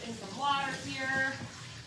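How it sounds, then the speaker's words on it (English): Water runs from a tap as hands and a paintbrush are rinsed beneath it, a soft, steady splashing hiss that swells and fades, with a voice speaking faintly in the background. "I'm just gonna rinse my hands off, throw my brush in some water here."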